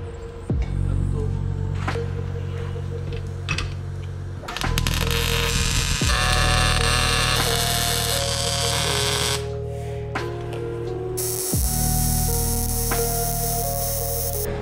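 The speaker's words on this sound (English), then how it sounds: "I'm just putting a bead like down in the crack." A bead being welded down into a crack on a Port-A-Wrap, heard as a steady buzzing, crackling hum in several stretches broken by short pauses, close and moderately loud with no talk.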